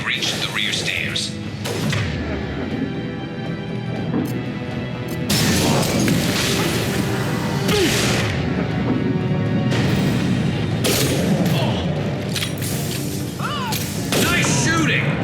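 Gunfire and impacts in Mass Effect 2 come as repeated loud crashing thuds and bursts across a busy combat scene, with voices talking over the fighting.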